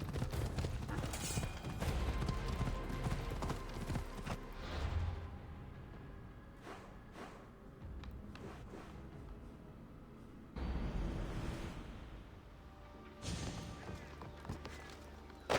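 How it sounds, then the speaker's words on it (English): Rapid hoofbeats from a horse galloping in Assassin's Creed Odyssey give a steady, busy clip-clop rhythm that rises and falls across the clip, moderately loud beneath game ambience. "If you can just ride your horse away."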